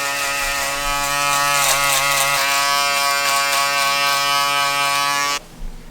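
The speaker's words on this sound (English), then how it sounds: "Now I'm just going to use the balding machine just to clean up the extra underneath." Electric balding clipper buzzing steadily up close as it trims hair underneath a high skin fade, a constant loud hum that cuts off abruptly near the end.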